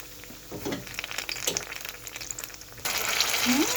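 Veggie and banana lumpia spring rolls frying in hot oil, a continuous crackling sizzle with scattered pops that grows louder and denser toward the end.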